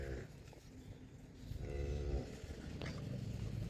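Young buffalo calf lowing on a farm, a few drawn-out moos rising over steady low background noise, fairly close.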